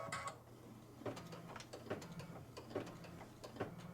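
A Brother embroidery machine's knot needle tying off a thread knot, giving a quiet run of rapid mechanical ticks and clicks in short repeated bursts over a low steady motor hum.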